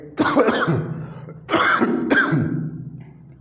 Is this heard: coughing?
yes